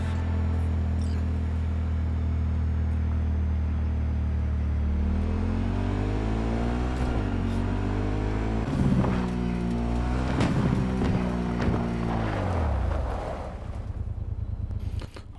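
Car driving in Cyberpunk 2077: a steady, loud engine drone that rises into revs and swooping pitch changes before dropping off near the end, with no talking.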